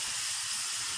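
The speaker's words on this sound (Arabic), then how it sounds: "وننزل بقى الخل" Vinegar hitting a hot pan while Egyptian lamb fatta is being cooked, a steady hiss of steam that fills the whole second with no talking.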